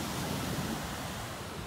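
Ocean surf at Yangyang on the Korean coast gives a brief, steady wash of broadband noise, soft and distant, with no voices present.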